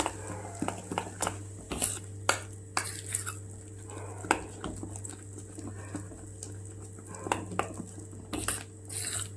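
Dahi vada batter beaten by hand in a bowl gives sparse, light utensil clinks and taps at an irregular pace, fairly quiet and close, with no voices.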